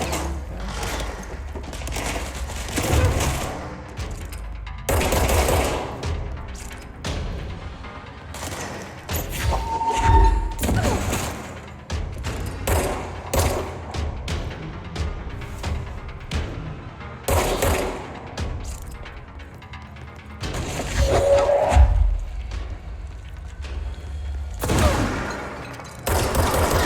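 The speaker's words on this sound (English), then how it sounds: "Someone just shoot something at me?" Bursts of automatic gunfire in the video game Control come in rapid clusters separated by short pauses, loud and close, with heavy thuds and a faint voice now and then.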